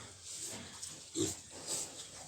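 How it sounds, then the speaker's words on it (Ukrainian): A farm pig eating its morning feed gives soft, snuffling grunts, two of them more pronounced, close by over a low background of chewing and rustling, with no talk. "Дав свинки їсти з утра."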